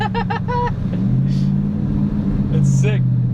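Road noise from inside a moving truck with a Supra fitted with a front-mount intercooler following behind, a steady low engine drone throughout, with people talking and exclaiming over it.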